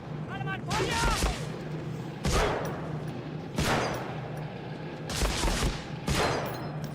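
Gunfire from the PS2 video game Medal of Honor Frontline comes in a series of sharp, loud bursts spaced about a second apart. A voice shouts orders over the shots.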